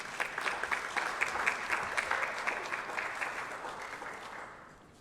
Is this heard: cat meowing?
no